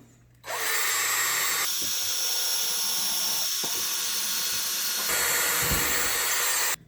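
A power drill bores a hole through wood, whirring loudly and steadily for several seconds with brief dips in pitch, then stopping abruptly.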